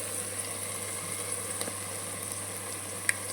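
Tomatoes cooking in a pan for veg pulao, a quiet steady sizzle with faint stirring clicks and a steady low hum underneath, no voices.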